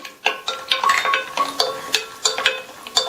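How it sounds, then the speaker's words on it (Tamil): Cashews fry in ghee on medium heat while a spoon stirs the pan, giving a rhythmic series of scraping clinks over a soft, faint sizzle. "இதுல 15 போல முந்திரியை சேர்த்து நல்லா பொன்னிறமா வர வரையும் மிதமான தீயில வச்சு வறுத்து எடுத்துக்கலாம்"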